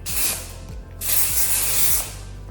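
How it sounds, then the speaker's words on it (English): Two long hissing bursts of Living Proof volumizing aerosol hair spray, close and loud, separated by a short pause, with a low hum underneath. "I'm going to spray some volumizing spray."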